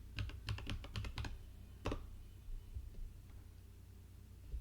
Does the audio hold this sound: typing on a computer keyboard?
yes